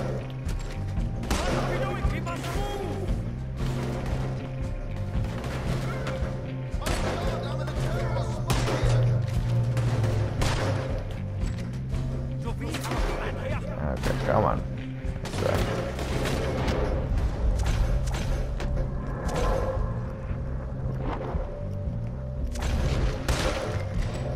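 Gunfire in the Red Dead Redemption 2 video game during a boat robbery, repeated booming shots scattered throughout over dense game sound, with someone talking over the action.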